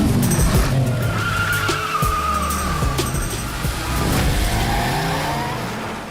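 Racing cars drift in a film, tires skidding and squealing in long screeching sweeps over a loud, continuous engine roar, with sharp scrapes cutting in throughout.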